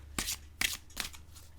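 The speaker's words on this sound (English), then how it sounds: "So with a vertical shuffle, it's very, very easy, very smooth, very pleasant to work with." An oracle card deck being vertically shuffled, three quick crisp riffling bursts in an even rhythm, close and clear against a quiet room.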